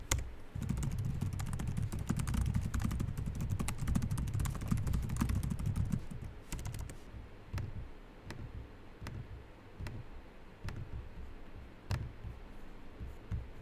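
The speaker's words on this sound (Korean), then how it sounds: "키보드의 타건, 트랙패드의 반응성, 부드러움, 또각거림 전부 무난하다고 생각을 합니다." Typing on the keyboard of an ASUS Vivobook Pro OLED 14X laptop: a dense run of quick key clicks for about six seconds, then slower, spaced single keystrokes, close and fairly quiet.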